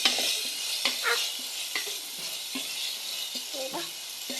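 Tomato goes into a pan of frying rohu fish curry, bringing a soft sizzle under repeated spatula scrapes and rattling stirs against the pan, fairly quiet and close.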